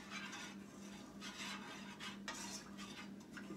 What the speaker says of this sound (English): Get this all stirred in here.